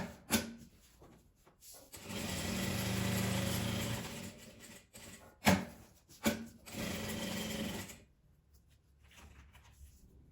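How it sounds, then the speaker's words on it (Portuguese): A sewing machine stitching right along the edge of patchwork fabric for a small cosmetic pouch, with two close bursts of steady motor hum and clicks between brief handling noises and quiet pauses. "Aqui eu costuro bem na beiradinha."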